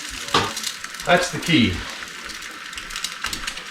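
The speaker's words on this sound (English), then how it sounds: "where they're going on sizzling like that" Fried eggs sizzle in a greased hot pan, a steady crackling fry running throughout at close range while a voice talks over it in places.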